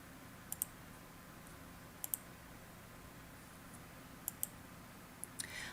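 Computer mouse clicking while sharing files in Google Drive, several short sharp double clicks spaced a second or two apart, quiet and close against a faint hiss with no talking.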